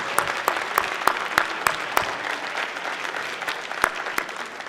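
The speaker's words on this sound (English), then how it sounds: "could we have one more big round of applause for all of our Tiger Take semifinals?" Audience at the Tiger Tank semifinals, a fall student pitch competition, gives a round of applause: a moderately loud, sustained patter of many claps with a few sharp individual claps standing out.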